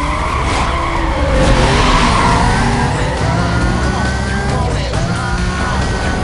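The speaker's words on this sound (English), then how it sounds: "What is with that part of the track and wanting to make my car freaking spin out?" Tires squeal and skid as a car spins out on a racetrack corner in Need for Speed: Most Wanted (2005), a loud, sustained screech over steady engine drone with no talking.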